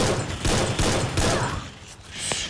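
Rapid bursts of gunfire crackle in the Free Fire video game, a dense loud fusillade of overlapping shots that thins out near the end, with a single sharp report close to the finish.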